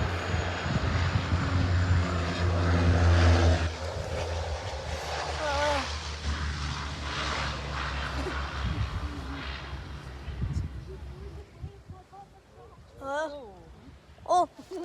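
A propeller plane lands at Barra: a loud, rumbling engine drone that eases and fades toward the end, with people talking over it throughout.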